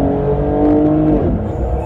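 BMW M4 GTS engine while driving, a brief loud rev with a rising harmonic whine that drops off sharply as a fast gear change cuts in, then resumes a rough rumble.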